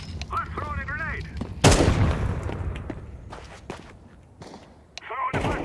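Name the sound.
grenade thrown in Counter-Strike video game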